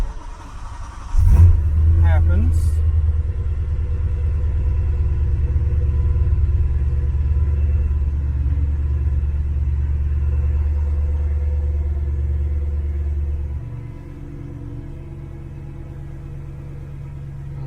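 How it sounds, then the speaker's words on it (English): A BMW engine cranks and catches, then runs with a steady low rumble for several seconds before settling quieter; a voice briefly speaks. "I'm going to start the car and let's see what"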